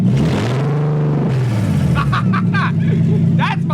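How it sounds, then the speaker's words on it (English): A Nissan 370Z with test pipes and open headers revs hard, its loud raw engine note climbing and holding before dropping off, followed by excited shouting from nearby people over the idling car. "Rami's gonna go ahead and hit the open throttle with open headers"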